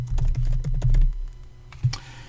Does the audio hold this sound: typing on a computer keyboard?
yes